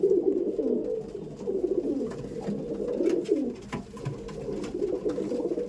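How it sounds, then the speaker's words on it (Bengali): Pigeons in a loft keep up a steady, soft chorus of low cooing, overlapping throaty calls with occasional faint clicks and rustles, and no talking. "সব একদম পুরো একদম লুক দেখুন পুরো অ্যাগ্রেসিভ লুক আর প্রতিটা পায়রা একদম রেডি আছে"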